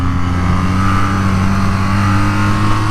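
A tuned 2023 BMW R nineT motorcycle engine drones loudly and steadily under acceleration, with a strong low hum and a rising mid-range tone and no voices.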